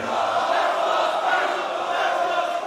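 A large esports crowd at the UFA 2019 Smash Ultimate tournament chants Glutonny's name, a loud rhythmic roar of many voices that swells and holds for several seconds.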